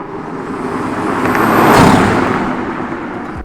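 A Toyota A91 Supra's XFORCE aftermarket exhaust roars steadily, building to a louder peak near the middle before easing off, a broad rumbling drone with no voices.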